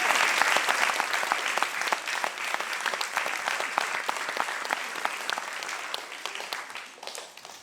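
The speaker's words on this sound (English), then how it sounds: "Let's give them a clap." Audience at a school play clapping for the parents and grandparents who drove the performers, a dense, steady applause of many hands that carries on for several seconds and eases off slightly toward the end, with no talk over it.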